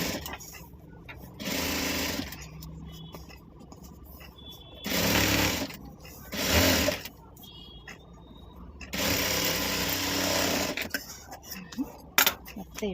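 A sewing machine stitches a round handbag in several loud bursts of rapid, close-up whirring, separated by pauses filled with quiet handling and fabric noises.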